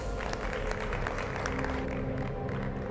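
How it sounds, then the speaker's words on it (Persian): Studio audience of a Persian game show applauding steadily throughout, dense clapping mixed with crowd noise and a low musical hum underneath. "با سپاس بسیار، تشویق"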